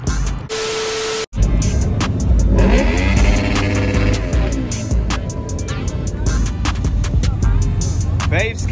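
A Ford Mustang V6 revs loudly at a street takeover gathering, the engine rising and surging in repeated bursts amid crowd noise, with a brief static-like interruption near the start.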